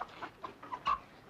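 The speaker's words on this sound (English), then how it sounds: "What'll I do with this chicken" A chicken clucks in a quick, steady series of short, fairly faint calls, close by, with no voices over it.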